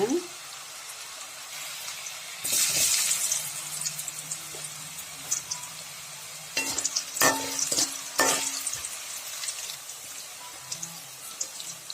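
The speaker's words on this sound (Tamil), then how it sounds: "எண்ணெய் நல்லா காயிட்டோன்ட்டு மிக்ஸ் பண்ணி வச்சு வாழைத்தண்டு போட்டு பொறிங்க" Banana stem pieces for chicken 65 frying in hot oil, with a steady soft sizzle and a few louder bursts of bubbling and stirring clatter throughout.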